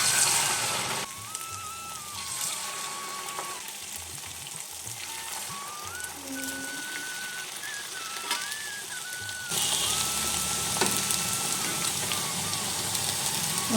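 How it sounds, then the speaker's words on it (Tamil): Aval thattai, flattened rice crackers, fry in hot oil with a continuous, dense sizzle that swells slightly toward the end, while faint tonal sounds drift in the background. "இப்போ இதை அப்படியே எண்ணெயில் போட்டு பொரிச்சு எடுத்துடலாம்."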